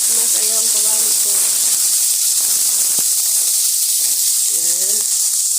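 Chicken pieces sizzling in a hot pan for ginataan na monggo, a loud continuous hiss close up, with faint voice-like tonal sounds briefly at the start and end.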